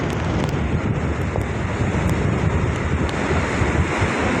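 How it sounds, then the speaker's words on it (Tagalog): Strong typhoon wind and crashing waves at Manila Bay, a constant loud roar of gusting wind buffeting the microphone over surging surf, with no voices. "kasagsagan po ng lakas ng ulan at saka ng hangin"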